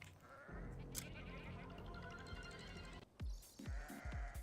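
Sheep and goats bleat in the video game Crimson Desert, a few short bleats near the end over a dense, steady game ambience with a busy background bed.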